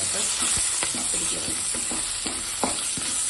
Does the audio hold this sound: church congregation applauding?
no